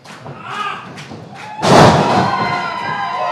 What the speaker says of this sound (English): Beautiful side slam